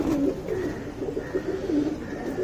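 A tournament racing pigeon, a long-bodied flier, gives soft repeated low coos close by in a quiet setting, several rounded calls rising and falling in a steady rhythm.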